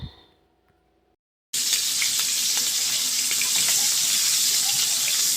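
Tap water runs steadily into a sink while bitter gourd is washed for a prawn dish, cutting in suddenly after a brief silence and continuing as a loud, even rush.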